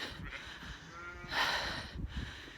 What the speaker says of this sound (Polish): stoją owce ze swoimi małymi jagnięcie, jagniątkami